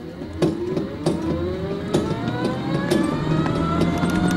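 An E-Wheels 48V mobility scooter with an upgraded lithium battery pulls away and accelerates, its electric motor whine rising steadily in pitch with a few bumps and knocks along the way, close and fairly loud.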